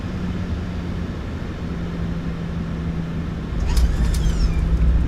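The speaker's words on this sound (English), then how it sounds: "Nose down gently, reversers are out, decelerating." Thrust reversers deploying on a PMDG 737-700 landing in a flight simulator: a steady, loud engine roar that swells into a heavier rush partway through, with a brief high whine near the end.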